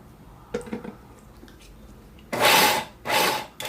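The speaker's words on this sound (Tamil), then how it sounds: "அந்த மாதிரி மிக்சி ஜாரில் போட்டு பல்ஸ் பண்ணி எடுத்துக்கிறேன்" A kitchen mixer grinder jar pulses wheat with a little salt, giving two loud, close whirring bursts of about half a second each, then the start of a third after a quiet lead-in.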